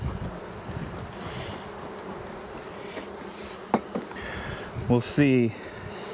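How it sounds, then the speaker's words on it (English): Honeybees buzz inside a hive during re-queening with a push-in cage, a steady insect hum beneath light wind noise. A few sharp knocks sound near the end, and a voice speaks briefly. "The sound within this hive is definitely lower than it had been."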